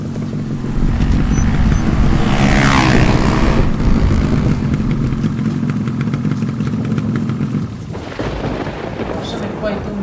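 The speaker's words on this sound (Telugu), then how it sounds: "చూసినా, ఆగు, బైక్ టర్న్ చేస్తున్నా" A motorbike rumbles steadily close by as it turns and rides on in the rain, its engine loud over a broad wash of rainfall, with a sharper rise of noise near the end.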